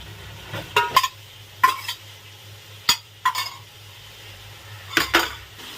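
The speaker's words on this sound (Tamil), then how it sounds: "சேர்த்து நல்லா மிக்ஸ் பண்ணி விடலாம்." A spoon stirs mutton with tomato and curd in a pot, giving several sharp metallic scrapes and clinks in irregular bursts over a faint sizzle and low steady hum.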